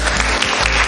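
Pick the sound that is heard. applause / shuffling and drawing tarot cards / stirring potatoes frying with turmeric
applause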